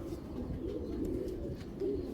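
A sesame-eyed pigeon chick coos in a steady, continuous low murmur, close and moderately loud, with no talking over it.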